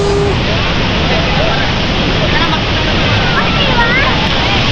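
Kawasan Falls in Cebu roaring as a dense, steady wash of falling water, loud and close throughout with no break.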